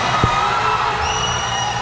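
A noisy crowd murmurs and cheers at a vice governor candidates' debate in Aklan, a steady wash of voices throughout with one brief thump near the start.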